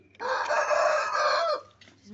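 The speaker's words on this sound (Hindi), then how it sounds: "ये देखिए मुर्गा हमारा" A rooster in a poultry coop with Aseel and other fancy hens gives one loud, close crow lasting over a second, cut off abruptly, with quiet surroundings afterward.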